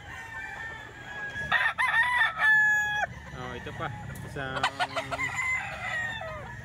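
Roosters crow loudly, one after another, amid clucking gamecocks at a crowded cockfighting market on a rainy Sunday, while someone talks briefly nearby.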